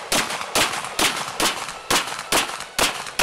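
Seven sharp gunshots at night during combat shooting practice, fired in a steady rhythm about half a second apart, each a loud close crack with a brief decay and no talk between them.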